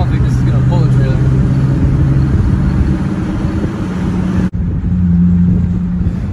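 A Duramax pickup truck's diesel engine drones steadily in third gear while towing a trailer, a loud, close, continuous hum with road noise that cuts out abruptly near the end.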